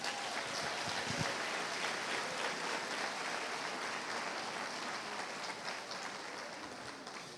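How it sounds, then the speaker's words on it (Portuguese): A church congregation applauds together during a worship service, a steady wash of clapping hands that fills the room at an even level from start to finish, with no talking over it. "Vamos aplaudir a Jesus?"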